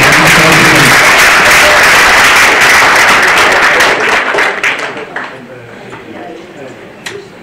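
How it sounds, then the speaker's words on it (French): An audience applauds the lecturer at the end of a large public talk on generative AI. The dense clapping fades over several seconds into a few scattered claps, with voices mixed in. "Encore une fois, une applaudissement pour le conférencier."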